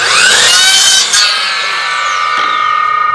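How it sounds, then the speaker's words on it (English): A miter saw set to 45 degrees cuts wood with a loud, high whine up close. The blade then winds down, its pitch falling over the following seconds. "This, this is a miter saw, and it's set to 45 degrees, and we want to cut this upside down."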